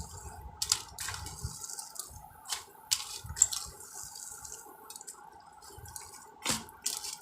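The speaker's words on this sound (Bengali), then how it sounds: "এই যে কলমি শাকের পাতার যে রসটা এটাকে আমরা বের করে নেব" Juice from squeezed water spinach (kalmi) leaves drips and patters in a series of short, close, irregular taps over a quiet kitchen background, with no talking.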